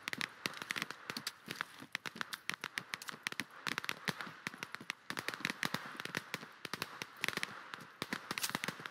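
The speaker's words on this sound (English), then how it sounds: "That's a grenade." Sharp crackling bursts and rapid pops from a grenade blast in the Operation: Harsh Doorstop shooter game, a dense irregular volley of snapping impacts that keeps going across the whole stretch at moderate distance.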